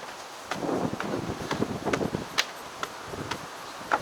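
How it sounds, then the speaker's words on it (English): Gusty wind by Sydney Harbour in Balmain, buffeting the microphone in uneven rumbling bursts with scattered sharp ticks and rustles throughout. "Bit windy today."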